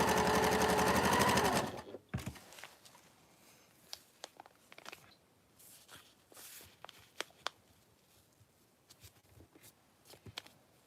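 A sewing machine stitches a piece of a Christmas wall hanging quilt in a short, loud whirring run that stops abruptly, followed by quiet scattered taps and handling of fabric.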